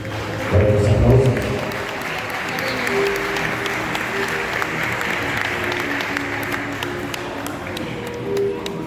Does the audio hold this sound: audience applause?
yes